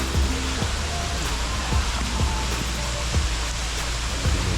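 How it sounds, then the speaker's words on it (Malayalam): Rushing water tumbles below an opened dam in Bali, a loud, broad, constant roar close by with scattered low thumps beneath it and no talk. "ഇപ്പോൾ വെള്ളം വന്നിട്ട് കുത്തിയൊരിച്ച് കിടക്കുന്ന ഇത് മുഴുവൻ കണ്ടോ"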